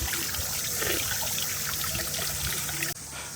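Drinkable hot spring water trickles and splashes steadily from a fountain at Misasa Onsen in Tottori, close and continuous, ending in a brief abrupt cut.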